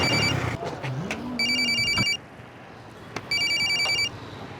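A telephone rings in two electronic trilling bursts, each lasting under a second, separated by a pause, close and clear over low background noise with a passing engine-like hum.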